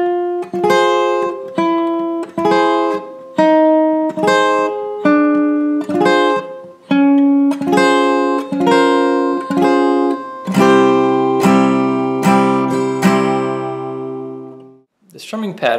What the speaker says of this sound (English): So let me play the intro slowly.